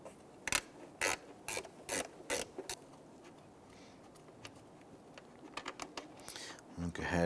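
A gear wrench ratchets on the 10 mm valve cover bolts of a 1992-1996 Toyota Camry, making quiet, close bursts of rapid clicking in short repeated strokes with brief pauses between.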